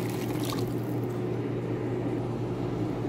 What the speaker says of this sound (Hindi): यहाँ पे मैं 2 कप के हिसाब से 4 कप पानी डालूंगी